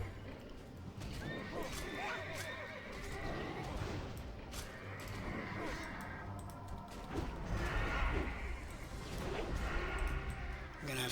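A horse neighs and whinnies amid busy World of Warcraft dungeon combat in Shadowfang Keep, with hooves clopping and crashing effects under steady game noise and a talking voice.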